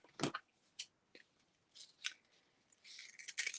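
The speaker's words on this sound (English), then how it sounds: "And then I'm going to cut it down the middle because I only needed 1 inch wide" Scissors snip down the middle of a 2-inch-wide fabric strip for a small album cover, giving a quiet series of separate, close, crisp cuts with short gaps between them.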